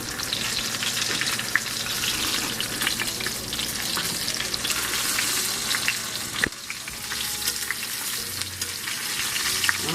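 Loud, continuous sizzling and crackling of chicken frying in a hot pan, with a brief scrape partway through and no voices.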